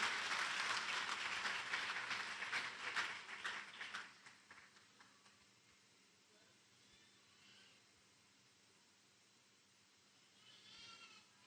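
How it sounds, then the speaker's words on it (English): Loud applause from an audience fills the first few seconds, then fades quickly into quiet room murmur. "A big round of applause for Mrs. Esther Rokombuli."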